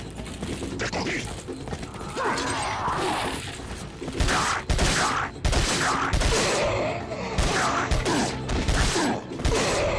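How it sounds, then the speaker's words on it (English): TMP submachine gun in Resident Evil 4, rapid bursts of gunfire with sharp mechanical clatter, loud and close, arriving in several clusters amid other game effects. "I'm mostly using my TMP here just so I can increase my accuracy a little bit"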